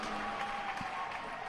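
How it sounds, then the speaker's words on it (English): A Welsh crowd at a netball match between Fiji and Wales cheers and applauds steadily in an indoor arena, a dense continuous roar of clapping and voices. "Lots of cheering from the Welsh crowd here."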